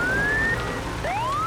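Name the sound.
cartoon fire truck siren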